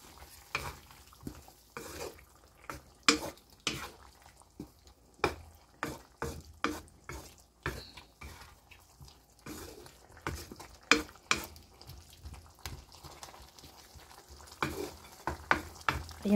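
Beef with cornstarch is stirred in a frying pan with repeated scraping, clacking strokes at an uneven rhythm over a faint sizzle, close and clear, with no talking.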